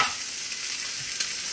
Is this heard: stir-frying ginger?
yes